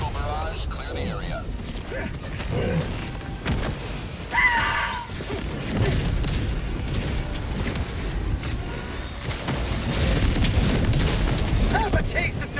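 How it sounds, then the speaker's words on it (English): Orbital barrage strikes in the video game Helldivers 2, repeated heavy booms and crashing blasts rolling through the whole stretch, loud and dense, with a voice talking over them. "Firing orbital barrage."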